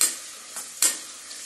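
Mint and coriander fry in a generous amount of oil, with a bright hissing sizzle and two sharp stirring scrapes across the pan during a short burst of cooking.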